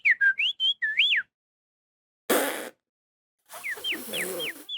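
A person tries to whistle, producing a run of short, breathy, wavering whistle notes that trail off, followed by a burst of noise and a few more shaky whistled attempts.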